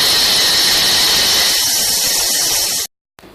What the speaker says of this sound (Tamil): முதல்ல உளுத்தம்பருப்பை எடுத்து நம்ம மிக்சி ஜாரில் போட்டு நல்லா திரிச்சு எடுத்துக்க போகிறோம்